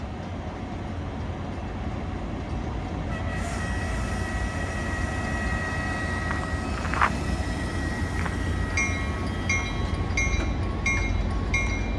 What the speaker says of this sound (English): This inbound from Joliet makes a station stop and is headed toward LaSalle Street Station.